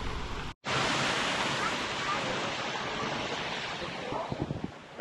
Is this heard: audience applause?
no